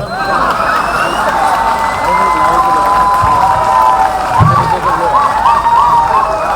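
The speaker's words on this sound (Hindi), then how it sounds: "जोरदार तालियां इस कार्यक्रम के लिए जो हरियाणा में हो रहा हो।" A comedy show audience in Haryana cheers and claps in a continuous crowd roar, with whoops and shouts rising over the applause and a few louder bursts toward the end.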